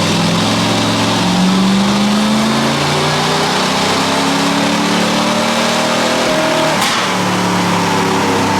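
A 6.7 engine runs hard on a dyno, with a loud, steady mechanical roar whose pitch climbs and falls through the pull, close and continuous with no talk.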